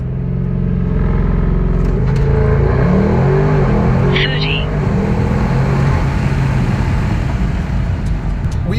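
A tuned 700 HP Audi RS6 Avant wagon accelerates hard in a 0 to 60 run, its engine a loud, steady roar heard from inside the cabin with rising tones as it pulls, while a voice talks over it.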